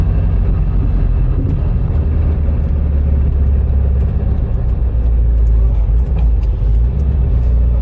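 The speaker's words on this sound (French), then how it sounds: "Il fait un beau bruit avec ce pot là" A steady, loud low engine rumble of a Volkswagen Golf V R32 through a single-outlet Vintage Speed exhaust, idling or cruising, continuous throughout with no breaks.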